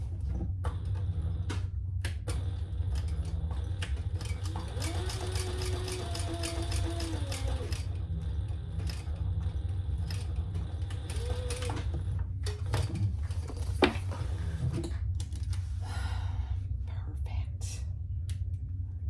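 Sewing machine stitching a crossbody bag, running in a rapid mechanical whir for a few seconds and then again briefly as it backstitches, over steady low background hum with soft speech around it.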